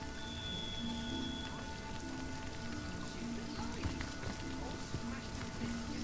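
Rain falls in the video game Divinity: Original Sin as a faint, even patter that runs throughout, mixed with soft sustained tones from the game's ambience.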